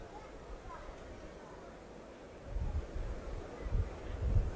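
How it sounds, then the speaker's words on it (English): Wind gusts across an outdoor ground during a 1994 Hull versus Wigan match. Low buffeting bursts grow stronger and more frequent toward the end, under a voice talking. "this wind is gusting around."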